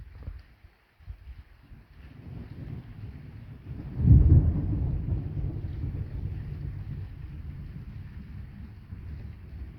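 During a heavy rainstorm, a deep, muffled thunder boom swells and rolls on for several seconds, almost drowned in the steady hiss of downpour and wind.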